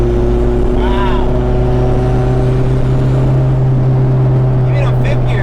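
A 600 HP turbocharged 1990 Honda Civic EF wagon pulls hard in fifth gear, its engine droning loud and steady with a dense low hum heard from inside the car, while brief voices chirp faintly.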